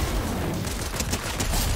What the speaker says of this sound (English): Yep, pistol's that good.